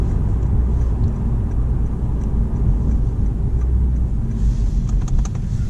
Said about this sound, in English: The way this car goes and the sound, it sounds deep and loud.